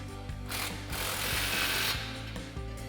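A socket wrench with a 15mm socket tightens an exhaust clamp on a 2022-2023 Toyota Tundra Carven single exhaust system, giving rapid ratcheting clicks in short bursts, close and clear.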